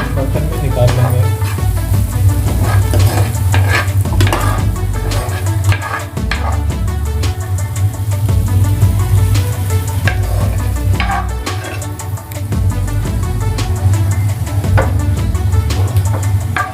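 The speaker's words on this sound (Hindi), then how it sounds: "मटर हमारा फ्राई हो रहा है, हमारी फ्राई मटर हो चुका है।" Green peas sizzle and crackle continuously in oil in a frying pan, loud and close, with scattered stirring clatters and a low steady hum beneath.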